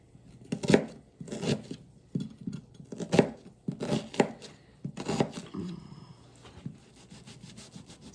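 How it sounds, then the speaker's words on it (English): Half an onion being cut with a knife, a close series of rough rasping strokes with crunchy cuts in an uneven rhythm, loud and alone, then trailing off into a quieter stretch. "So we're going to cut up the other half of this onion."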